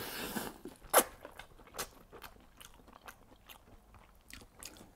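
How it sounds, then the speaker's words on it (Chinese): Someone bites into a soup-soaked egg with a runny yolk and chews it over a late-night bowl of rattan-pepper rice noodles: one sharp bite near the start, then soft, faint, wet chewing with no talk. "尝一下我的蛋，你看这个蛋吸满了汤汁"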